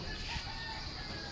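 Chickens at a home yard in the Philippines, clucking and crowing in a dense, steady barnyard clamor close by, with no pause across the short stretch.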